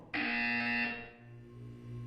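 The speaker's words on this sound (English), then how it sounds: "You will hear a buzzer." A loud electronic buzzer from the video game Portal 2 sounds once, sharp and sustained for about a second with a steady harmonic tone, then fades into a low hum.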